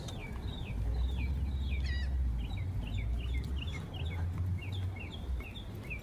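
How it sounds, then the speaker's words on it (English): Birds chirp and call repeatedly in quick high trills outdoors on a walk around a building, fairly close, over a low rumbling background. "Listening to the birds."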